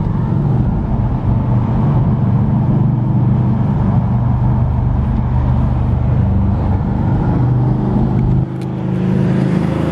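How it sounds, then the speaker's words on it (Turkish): Steady loud engine roar from a Harley-Davidson V-Rod motorcycle riding through a tunnel, a continuous droning rumble heard from close by that dips slightly near the end. "Hele bir de böyle bir sesli bir motor varsa daha çok severiz."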